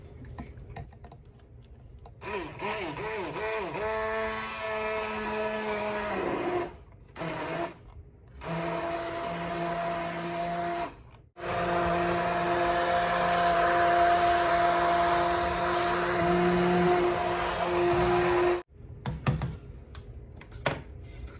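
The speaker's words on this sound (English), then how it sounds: "I'm going to use an emulsion blender." An immersion blender on a low setting purees peach jelly for canning, giving a steady whirring motor drone with brief pauses and restarts, loud and close throughout.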